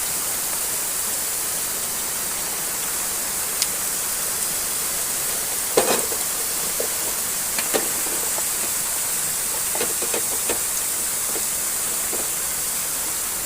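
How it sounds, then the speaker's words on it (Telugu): Eggs fry in a pan with a continuous soft hiss and sizzle, broken now and then by a few brief crackles and pops, moderately loud and close. "చూడండి ఫ్రై అవుతున్నాయి."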